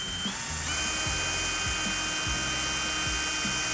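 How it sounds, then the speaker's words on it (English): A power drill with a 2.5mm bit whirs steadily while boring through the ribbed metal of a van, close and loud, with a rising motor pitch and repeated grinding bursts as the bit bites. "I'm actually having to drill through the ribbed metal"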